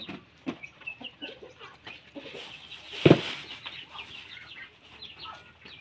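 Chickens and ducks gathering at feeding time on a small farm, scattered clucks and soft calls nearby with a sudden burst of flapping midway.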